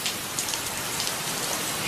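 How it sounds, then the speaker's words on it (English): Steady heavy rain pours down outdoors in a continuous dense hiss of drops on surfaces, loud and unbroken throughout with no voices. "It's raining."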